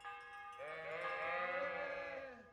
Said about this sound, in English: why are you making sheep sounds, dude?